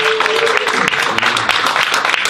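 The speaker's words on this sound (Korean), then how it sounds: "우리 수고한 찬양팀에게 좀 격려 박수 드리고요" Encouraging applause from a church congregation for the worship team at a Monday evening intercessory prayer meeting, steady dense clapping filling the room throughout with some voices mixed in.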